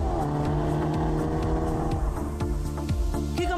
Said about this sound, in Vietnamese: điểm đáng chú ý nhất của gói N Performance Package là ống xả thể thao có thể cho ra âm thanh